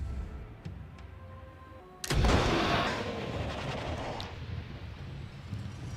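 A single loud gunshot in the turn-based video game Dread Nautical, a sharp blast that fades into a rumbling decay over a few seconds, with faint ambient game tones before it.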